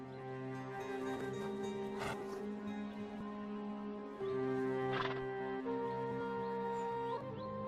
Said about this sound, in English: Yakut horses face it head-on.